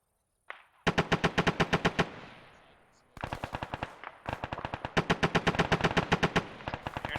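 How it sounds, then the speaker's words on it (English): Rapid automatic gunfire during squad training erupts in several loud, rhythmic bursts of evenly spaced shots, separated by a short lull and ringing echoes. "Hearing shots left."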